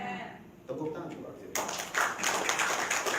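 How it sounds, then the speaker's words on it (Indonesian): Audience applause at an Indonesian seminar breaks out partway through, building into a broad, loud wash of clapping that carries on steadily to the end, with a voice briefly audible before it swells. "Tepuk tangan Pak"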